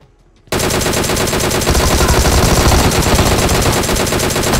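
Sustained automatic fire from an M16 rifle in the mobile battle royale game PUBG Mobile, starting abruptly after a brief silence and then a dense, loud, rapid stream of shots that runs without a break to the end.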